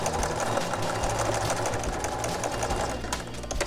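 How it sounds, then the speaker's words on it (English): A sewing machine stitches steadily over cording inside a skinny fabric tube, a continuous close whirring hum with fast needle rhythm and no talk. "we need to stitch over our cording so it can't"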